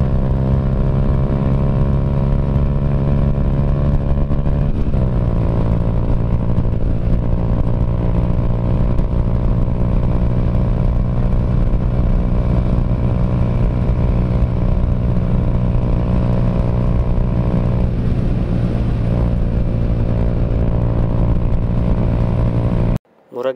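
A Raider J115Fi motorcycle with a 54mm bore is revved hard at full throttle, its loud, steady engine drone running almost unbroken for over twenty seconds, with a brief pitch shift along the way and a sudden cutoff at the end.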